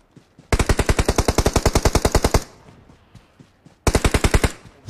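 Close, loud automatic gunfire in a battle royale video game: a long rapid burst of evenly spaced shots, a pause with faint ambient sound, then a second rapid burst.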